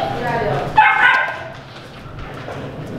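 Dogs yip and whimper at a dog cafe in Korea, a short excited burst close by, with people talking around them.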